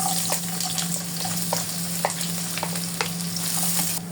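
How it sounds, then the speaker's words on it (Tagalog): Onion sautés in a pan for Bicolano pancit bato, a steady close sizzle broken by frequent light scrapes and clicks of stirring, with no voices. "Magigisa na po tayo ng bawang at sibuyas. Unahin po muna natin ang ating sibuyas."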